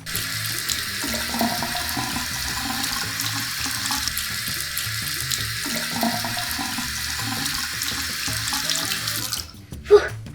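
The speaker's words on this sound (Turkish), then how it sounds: "Şimdi havucu yıkayacağız." A carrot being washed under a running kitchen tap: a steady, close stream of water splashing for several seconds, then it cuts off and a single clunk follows.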